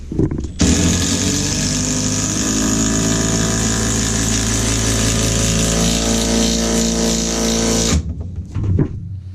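A power drill drives a screw into wood framing beside a water heater, a loud steady motor whine holding for about seven seconds before stopping abruptly, with a brief rattle after.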